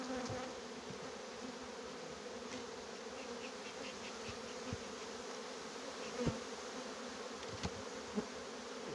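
Honey bees buzz densely at a large hive with the brood box set in the middle, a continuous close hum with a few brief knocks and no voices.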